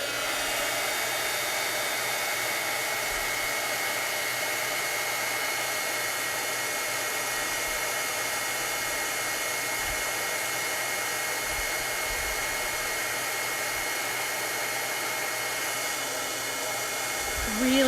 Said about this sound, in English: All right, heat tool.